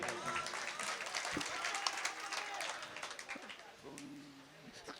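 Mushaira audience in Bhiwandi clapping late at night, a broad dense wash of applause filling most of the clip before fading as a voice begins singing near the end.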